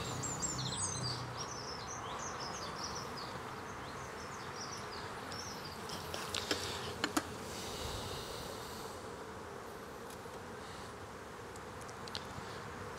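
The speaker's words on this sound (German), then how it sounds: "So, jetzt sind die Bienen natürlich ein bisschen irritiert." Disturbed honeybees buzz steadily close by while a hive is opened for inspection, a dense continuous drone with a few sharp clicks and knocks from handling the frames partway through.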